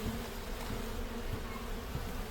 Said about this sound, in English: This is how we get the bees to physically move.